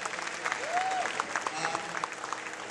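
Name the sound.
applause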